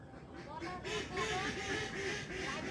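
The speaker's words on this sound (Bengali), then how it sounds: "দেখুন পুকুরে কিরকম হাঁস খেলা করছে।" Ducks quack on a village pond in a rapid, overlapping series of nasal calls, fairly close and steady over a noisy outdoor background.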